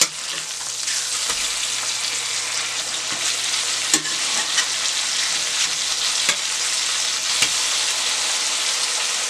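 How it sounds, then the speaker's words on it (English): Steady sizzling of a cod fillet frying in a pan on medium heat, a continuous hiss with a few soft clicks and pops, close by and no talking. "I had it frying on medium heat for 6 minutes"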